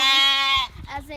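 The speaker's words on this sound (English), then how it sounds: "This is Flower, a noisy lamb" A lamb on a farm gives one loud, drawn-out bleat up close, followed by brief quieter noises as the call breaks off.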